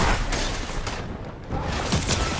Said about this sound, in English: you shot him with a grenade